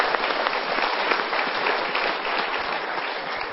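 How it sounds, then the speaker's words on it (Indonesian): A studio audience at the Mario Teguh Golden Ways motivational talk show gives dense, steady applause that fills the whole stretch at an even loudness, with no speech over it. "Kita berikan tepuk tangan dulu."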